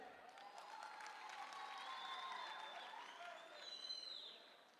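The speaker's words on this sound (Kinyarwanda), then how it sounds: "Abarokore barimo aha mukoma amashyi twumve." An audience at a live comedy and music event clapping hands, a sustained wash of applause that swells and then fades, with a few faint cheers and whistles.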